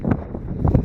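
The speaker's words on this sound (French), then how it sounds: "Le vent souffle à 75 km/h aujourd'hui." Strong wind at 75 km/h on the Kepler Track, heard as a brief burst of low rumbling buffeting against the microphone.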